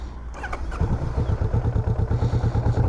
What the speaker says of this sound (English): So let's start it up and get the engine warmed up here.